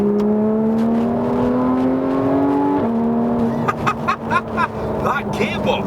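A Porsche 911 GT3 engine revving: a loud, rising, whining tone that climbs, then drops sharply at an upshift and settles lower, followed by bursts of louder throttle while a voice talks over it.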